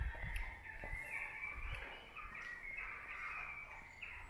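Birds call inside an abandoned church in a few short harsh squawks that echo faintly against a hollow, roomy background hum.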